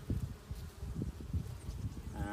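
Honeybees buzz at an opened beehive during an early-season inspection, a steady, close, busy hum of many wings with no voices.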